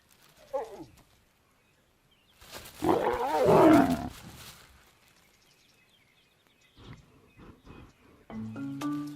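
Lions, a lioness in estrus followed by a male, growl and roar in the wild. One short growl comes first, then a loud sustained roar, with lower rumbles and calls afterward.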